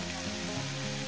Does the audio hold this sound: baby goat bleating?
no